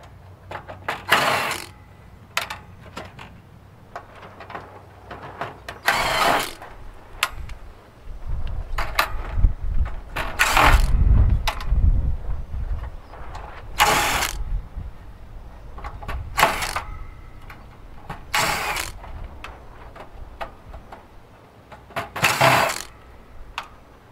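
Screws being backed out while a Juniper J4350 Ethernet switch is taken apart, giving a run of short, sharp mechanical clicks and ratcheting bursts spaced a few seconds apart, close up, over low handling rumble and no talk.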